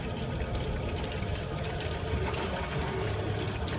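Water runs steadily from a faucet inside a NuCamp camper, a continuous close hiss and splash with no breaks.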